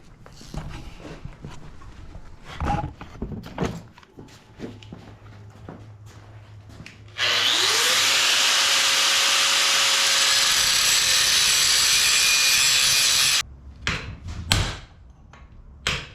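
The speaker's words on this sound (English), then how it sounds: "So I'll go ahead and take the die grinder back to it again and go a little bit deeper." A die grinder cuts into a steel driveshaft tube. Scattered clanks and handling noises come first, then a steady, loud, high-pitched grinding whine holds for about six seconds before stopping, followed by more knocks.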